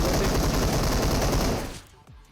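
Dense, continuous automatic gunfire roars from a shooting video game, loud and unbroken for almost two seconds, then cuts off sharply into near silence.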